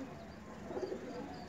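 A young pigeon sits on an open rooftop and gives a faint, brief, soft coo over quiet background noise.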